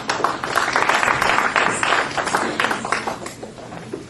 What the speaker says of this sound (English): And give yourself a big round of applause.